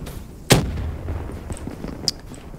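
A thrown grenade explodes in Black Ops 3 multiplayer, a single sharp, loud boom early on, followed by quieter scattered game noise and a few faint clicks.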